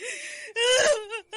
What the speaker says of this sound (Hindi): तभी उसने एक औरत के रोने की आवाज़ सुनी